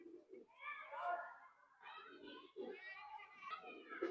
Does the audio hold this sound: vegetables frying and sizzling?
no